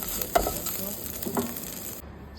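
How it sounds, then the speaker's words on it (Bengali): Dried loitta fish (shutki) fries in hot oil in a pan, giving a steady close sizzle with a couple of spoon scrapes before it cuts off abruptly. "তাকে বেশ ভালো করে ভেজে নেব যেন শুক্তিতে এক্সট্রা বাজে কোনো গন্ধ না আসে"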